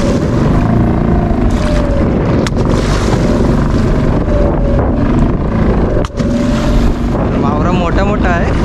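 An engine fitted to an old wooden fishing boat drones steadily and loudly at sea while gill netting for mullet, mixed with heavy wind buffeting and water noise throughout.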